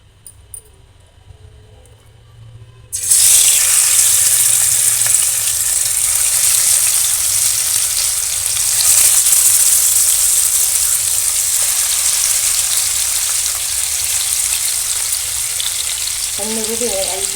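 Fish sizzles loudly in hot oil, a sudden steady crackling hiss that starts after a quiet moment and holds strong throughout, with a brief voice near the end.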